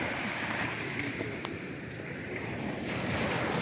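Sea waves wash steadily onto the beach at Nasugbu, Batangas, making a broad, continuous surf hiss. Wind buffets the microphone throughout, and no one speaks.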